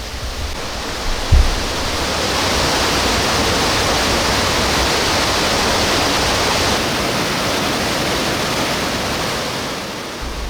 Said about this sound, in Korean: 시원하게 쏟아지는 폭포수를 보고